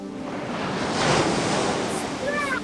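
Ocean waves roll and crash in a steady, loud wash of surf with wind-like hiss, representing a storm at sea where a lifeboat capsizes in an audio drama.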